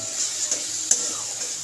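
Spice paste for egg curry frying in oil and being stirred, a steady close sizzle with a couple of brief scraping strokes, no talk.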